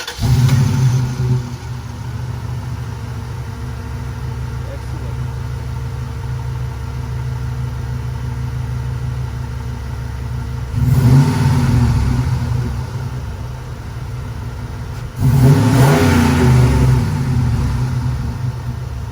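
A 2003 Dodge Durango with the 4.7-liter Magnum V8 and 204,000 miles idles steadily close by, then revs up twice in short bursts before settling back to idle each time.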